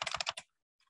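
A quick burst of about five keystrokes on a computer keyboard, typing a short search term, then a few faint taps after a brief silence.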